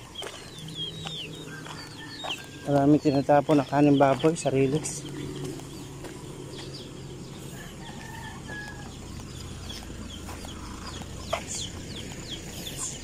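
A flock of chickens with chicks forages beside railway tracks in the Philippines; a rooster gives a loud crow lasting a couple of seconds amid scattered clucks and bird calls, with someone talking over them.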